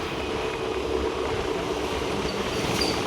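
Steady motorbike engine drone with rumbling road and wind noise, continuous and fairly loud, riding to a market in Ratnagiri, Konkan.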